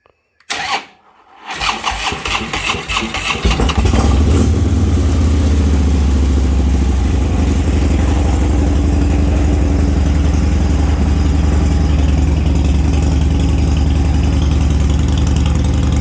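A purple Harley-Davidson motorcycle from a personal collection, its battery low, turns over with a couple of short cranks before catching and settling into a loud, steady, close idle that runs on alone.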